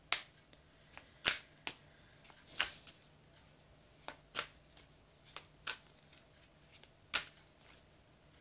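Tarot cards shuffled by hand in quiet surroundings, sharp riffling snaps arriving in irregular bursts, some crisp and loud, others softer, with faint hum between them and no talking.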